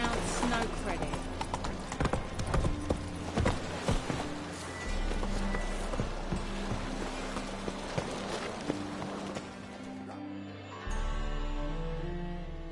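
A horse's hooves clop rapidly at a gallop in The Witcher 3, a loud rhythmic pounding up close that continues under background music and a voice speaking.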